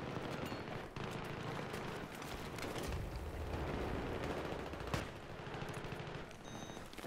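Battlefield 3 multiplayer gunfire, a dense continuous fusillade of rapid automatic shots with explosive bursts, loud and unbroken, no talk over it.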